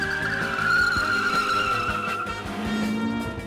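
Cheap VW Golf GTI driven hard on a test track lap, tyres squealing in a long sustained skid over a strained engine note, continuous and mid-distance with no talk.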